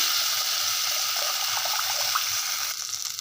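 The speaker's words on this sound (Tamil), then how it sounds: "இதில் புளி தண்ணியை ஊற்றிடலாம்" Tamarind water pours steadily into a pan of cooked garlic and onion, a continuous watery rush, close by and fairly loud, tapering slightly at the end.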